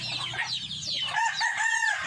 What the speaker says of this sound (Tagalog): magpapakain na tayo ng mga manok